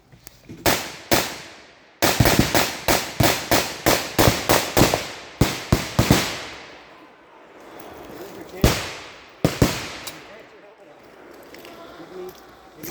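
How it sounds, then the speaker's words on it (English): Blank rounds fired by reenactors portraying SS troops coming out of the trees at a WW2 tactical event, a rapid string of loud, sharp, close reports in bursts, then a few scattered shots outdoors. "the guys portraying the SS who came out of the trees and were firing at us"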